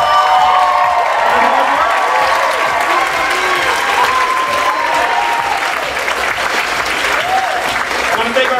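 Dense, loud applause from a packed audience at a Purdue Philippine Culture Night performance, continuous clapping with scattered cheers and drawn-out shouts layered on top.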